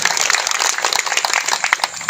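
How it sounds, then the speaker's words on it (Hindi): Dense clapping from a big crowd at a political rally, a loud, steady patter of many hands that runs the whole time with no voices over it. "मोदी जी के लिए जोरदार ताली बजाएं।"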